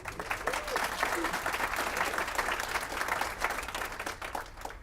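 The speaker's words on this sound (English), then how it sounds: "A round of applause" Attendees at a regional economic summit in Hemet applaud the city's mayor as she rises, a fairly soft, steady patter of clapping from a modest crowd with faint murmuring underneath.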